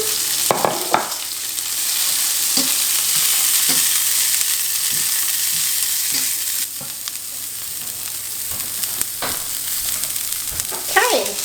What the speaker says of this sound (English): I'm going to add a tiny bit more coconut oil. And then I'm going to cook down the cabbage